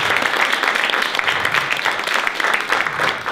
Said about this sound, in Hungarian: egy nagy tapsot a jelenlévő gyerekeknek